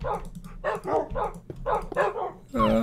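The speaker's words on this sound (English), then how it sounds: "And there's so many dogs." Several dogs in the Minecraft video game bark in a busy run of short, yappy barks and yips, one after another and close by, with a few whimpers mixed in.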